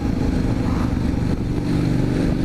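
An Indian FTR 1200 V-twin motorcycle engine pulls at low revs in a high gear, a steady deep throbbing drone that stays loud and close throughout, with no voices.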